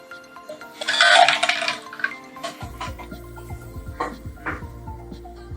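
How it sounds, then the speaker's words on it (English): Chilled tea poured over ice cubes in a glass for bubble tea, starting with a bright splashing pour and then settling into soft clinks, trickles and drips near the microphone. "put in your ice cubes. Then, pour in your chilled tea from earlier."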